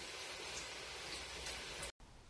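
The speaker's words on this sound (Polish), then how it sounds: "Cały dzień pada." Steady rain falls all day in an outdoor setting, a continuous dense hiss that fills the whole stretch, broken only by a very brief cut before it resumes.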